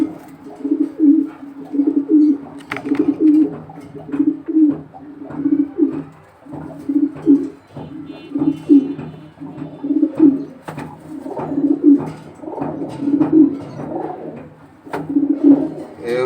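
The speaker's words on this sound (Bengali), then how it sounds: "এই কবুতরটি এটাও বিআরপিএল e ক্লাব থেকে রেস করা" Racing pigeons coo in a steady series of soft, rounded calls repeating every second or so, close by and fairly loud, with a few faint chirps mixed in.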